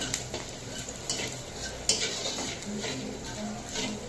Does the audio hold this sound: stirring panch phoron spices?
yes